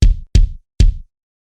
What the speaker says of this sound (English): Now your bass drum sounds like this when played soft,